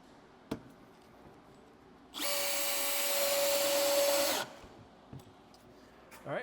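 A power drill drives screws to tack a metal panel during a mechanical seam panel and trim install, giving one steady whining run of about two seconds between faint clicks and handling noises.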